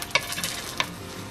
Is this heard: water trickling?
no